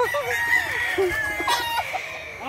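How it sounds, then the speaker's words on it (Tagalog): Several chickens cluck and murmur in a backyard nearby, with short squawks scattered over a steady outdoor background. "Ito na lang yung mga manok dito na tira sa likod bahay."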